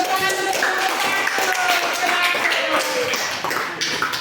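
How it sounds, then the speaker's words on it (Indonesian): A classroom of students gives a brief round of clapping for a group that has just presented, with uneven, scattered hand claps under background chatter and voices. "tepuk tangan untuk kelompok"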